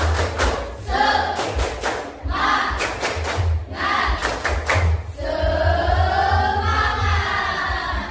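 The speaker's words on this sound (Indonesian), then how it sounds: "Tepuk semangat." A class of schoolchildren performs a spirit clap, loud rhythmic bursts of clapping in quick groups mixed with a unison chanted cheer, close and filling the room, ending in a sustained shout.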